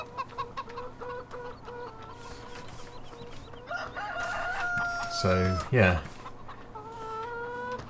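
Video game chickens in Farming Simulator 2015 cluck repeatedly in a steady rhythm, and a rooster crows loudly partway through, with a brief spoken remark over the farmyard sounds.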